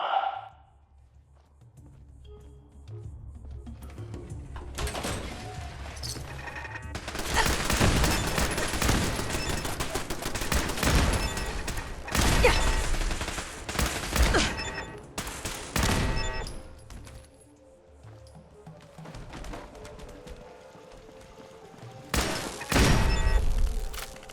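Dense gunfire from Fallout 4 combat: sustained bursts of automatic fire and heavy thuds roll on loudly through most of the stretch, with brief lulls between volleys and a final loud burst near the end.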